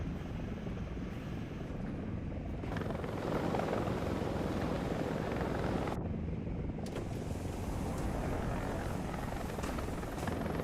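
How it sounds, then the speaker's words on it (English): An AH-56 helicopter flies in the War Thunder combat game, a continuous loud rotor and engine roar with wind-like rushing that briefly dips before resuming. "It's a very interesting helicopter."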